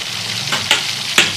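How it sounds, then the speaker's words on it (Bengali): Pumpkin sizzles steadily in hot oil, with two sharper crackling bursts as pieces are stirred or shifted in the pan. "তেলটা আমার গরম হয়ে গেছে"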